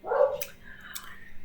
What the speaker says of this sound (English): There's a dog barking in the hallway.